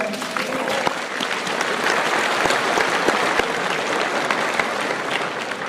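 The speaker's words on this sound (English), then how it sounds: "Give him a round of applause, by the way." Steady, dense applause from a seated crowd at a personal development seminar, loud and close, holding evenly throughout with scattered sharper claps.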